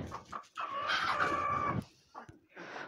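Hens cluck and squawk close by while being fed soaked roti, with a drawn-out call in the middle and shorter clucks around it.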